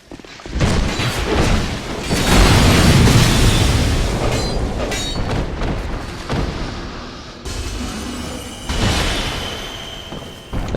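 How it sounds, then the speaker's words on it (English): Repeated booming explosions from the video game Dark Souls II, heavy low thuds and crashes rolling one after another at close range for the whole stretch, with no talk over them. "explosions"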